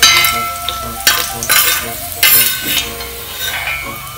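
Raisins frying in hot ghee for semiya payasam, a crackling sizzle broken by several bursts of stirring and metal spoon scrapes against the pan, close up and fairly loud.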